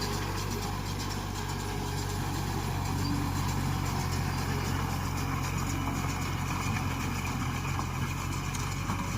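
A farm machine's engine idles in a field, giving off a steady, close, continuous low rumble with a mechanical hum that holds even throughout, with no voices.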